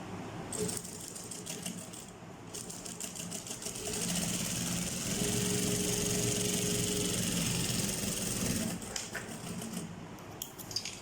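A sewing machine stitches fabric lining for a crocheted bag in a steady, fast rattling run that lasts almost the whole stretch. The sound gets a little heavier in the middle and eases off near the end.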